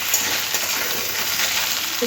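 Vegetables, raw banana and potato, fry in a pan for a fish curry while being stirred, giving a loud, continuous close sizzle with faint scraping throughout.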